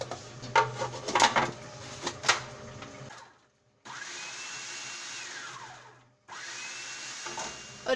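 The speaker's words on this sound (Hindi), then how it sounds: "अब सबसे पहले एक छोटा प्याज और दो हरी मिर्चों को अच्छे से चॉप कर लेंगे।" A small onion and two green chilies being chopped: several sharp chopping taps close by, then a steady, loud whirring drone that stops briefly and resumes, with no speech.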